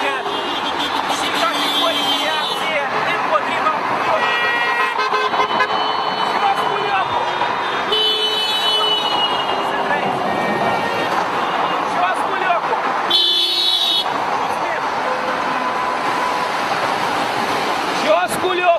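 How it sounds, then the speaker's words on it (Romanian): Car horns toot repeatedly along a street during an anti-Dodon protest in Moldova, blending with traffic noise and a steady crowd hubbub, while someone talks over the whole scene. "nu mai stau pe gânduri cetățenii, apasă pe claxon"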